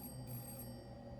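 A telephone rings in the horror video game Hollowbody, a brief, faint electronic trill with steady tonal lines over a low background hum.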